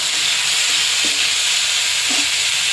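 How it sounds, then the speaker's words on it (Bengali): Potato, radish and onion stir-fry with salt and turmeric in a pan, producing a loud, dense, unbroken sizzle close by, with faint stirring knocks under it. "দিয়ে দেবো পরিমাণ মতন হলুদ দিয়ে ভালো করে নাড়াচাড়া দিয়ে"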